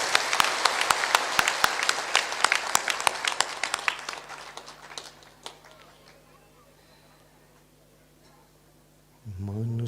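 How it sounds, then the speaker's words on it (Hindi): Audience at a spiritual discourse by a spiritual teacher clapping loudly, sharp rhythmic claps that thin out and fade after about four seconds, followed by quiet and then a voice starting up at the end. "जोर से बजाओ ताली"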